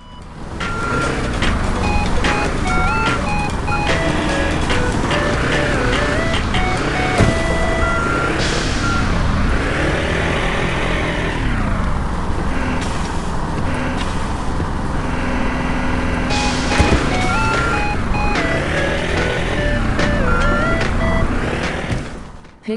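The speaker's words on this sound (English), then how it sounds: "First, you drive the forklift into the port." Forklift driving into the port in the video game Sneaky Sasquatch: loud, continuous rhythmic reversing beeps over a rumbling engine drone that rises and falls throughout.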